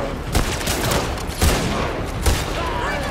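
Gunfire in The Last of Us Part II, with a sniper among the hostile Scar faction firing: three sharp, loud shots ring out at uneven intervals over a steady background rumble and scattered noise.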